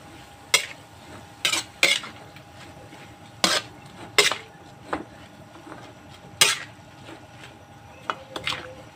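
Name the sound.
stirring bean sprouts with soy sauce in a pan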